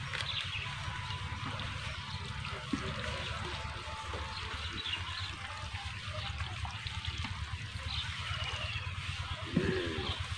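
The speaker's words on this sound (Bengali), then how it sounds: "এবার আমি আঙ্গুরগুলোকে ধুয়ে নেব।" Steady running and pouring water as grapes are washed before being dried into raisins, a continuous moderate splashing trickle with faint clatter, alone without talk.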